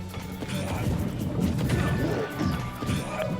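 Snake's explosives go off in Super Smash Bros. during a tournament match, with sharp crashing blasts and mechanical clatter in quick succession, close and punchy, with commentary talk running underneath.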